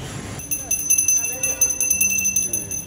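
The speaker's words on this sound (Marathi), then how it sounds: "घंटा पण वाजवतोय." A hand bell rings steadily at home during a Ganesh festival puja, its bright repeated strikes sustained through the clip alongside household voices and background bustle.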